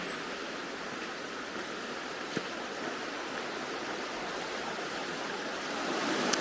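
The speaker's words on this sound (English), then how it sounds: "you can see how the river is actually cutting underneath the rocks there" Broad, steady rushing of a river flowing along a straight canyon wall and cutting beneath rocks, a constant close wash of water that swells slightly near the end, with no talk.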